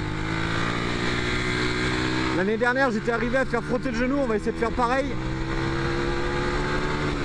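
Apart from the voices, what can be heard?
small 125cc motorcycle riding on a race circuit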